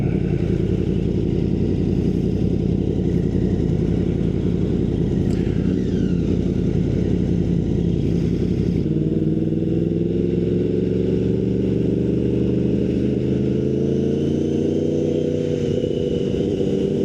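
A Yamaha R1 motorcycle engine heard while riding, with a loud, constant, close engine drone that shifts partway through to rising, whining revs as the bike accelerates.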